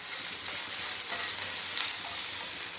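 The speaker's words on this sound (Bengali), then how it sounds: "এবার আমি গ্রেট করা আদাগুলো দিয়ে দিলাম।" Grated ginger sizzles in hot oil with fried tempering spices while cabbage curry is cooked, a steady close crackling fry with faint stirring and no voices.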